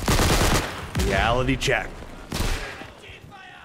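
Gunfire bursts in the Day of Infamy shooter, several loud rapid volleys over about four seconds with a voice speaking between them.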